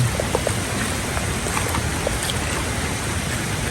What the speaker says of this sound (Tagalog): Biglang naulan kasi dito sa bundok.